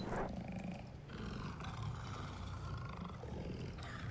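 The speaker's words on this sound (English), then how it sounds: "I'm listening to the tiger growls and the robot bear telling me he loves me for another 15 minutes." Tiger growls from the video game Dead Rising 2, a low rumbling roar that swells and fades in waves, close and moderately loud with no talk over it.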